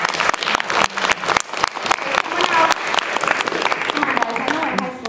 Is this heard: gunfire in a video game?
no